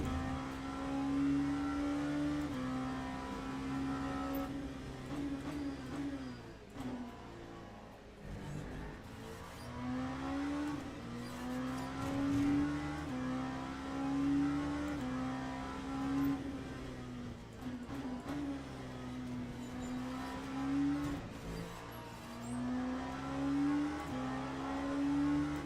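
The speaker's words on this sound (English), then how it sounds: "This Orica Gibson V8 has to sound nicer in person, because it's not a good sounding car from the outside here." Oreca Gibson V8 race car engine in the Le Mans Ultimate racing game at Bahrain Outer, heard from outside with repeated rising and falling revs through gear changes, moderately loud and continuous.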